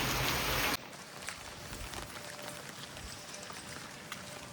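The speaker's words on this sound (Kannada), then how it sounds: "ಇವಾಗಂತ ನೋಡ್ರಿ ಮಳೆ ಚಲೋ ಆಗ್ಬಿಟ್ಟತಿ" Steady rain falls outdoors with a soft continuous hiss and scattered drops, moderately faint, after a brief louder burst at the start, with no talk.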